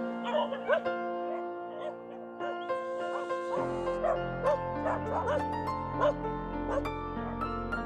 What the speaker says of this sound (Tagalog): Nasalubong na tayo agad ng mga aso.